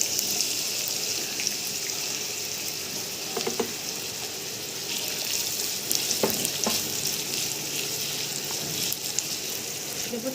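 Onions fry in oil in a wok with a continuous crackling sizzle, moderately close, broken by occasional sharp pops and stirring clicks, with no talk.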